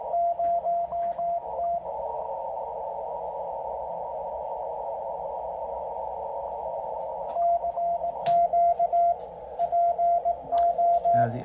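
Steady Morse code CW tone from an ICOM radio receiver, beginning and ending with keyed beeps in short dot-and-dash bursts, a continuous whine between them, over faint static.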